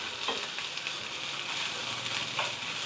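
Chili, garlic and onion sautéing together in a pan for a drumstick and jackfruit-seed thoran, a soft, even sizzle heard up close with a few light stirring taps and no voices.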